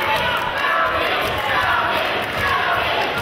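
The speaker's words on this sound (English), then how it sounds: "And a crowd of youngsters in the audience have taken a liking to Jody." Young fans in the crowd at a British professional wrestling show cheer and shout continuously in a loud, sustained roar, with a voice faintly audible underneath.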